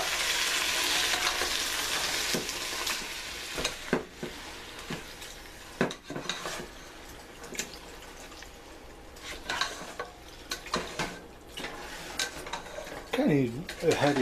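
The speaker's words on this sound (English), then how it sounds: "Kind of need a heavier pan if I'm going to stir one-handed." A spoon stirs sausage stew with tomatoes and herbs in a light pan, giving scraping and clinking knocks at irregular intervals over a soft sizzle, close and fairly quiet.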